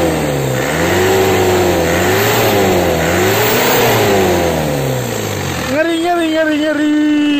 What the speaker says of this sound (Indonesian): turbo bawaan 4JB1T. Jadi kalau misalnya digas suaranya